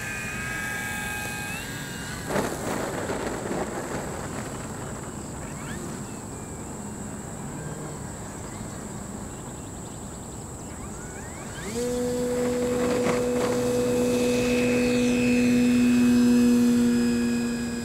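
An E-Flite Carbon-Z Cub SS 2.1m electric RC bush plane flies overhead with a steady motor whine, then the throttle changes audibly and a louder, rising tonal hum takes over near the end.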